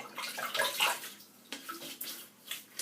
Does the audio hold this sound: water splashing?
yes